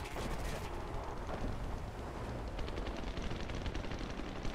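Gunfire in a shooter video game, a dense, continuous barrage of rapid shots and blasts at steady loudness throughout, with no voices over it.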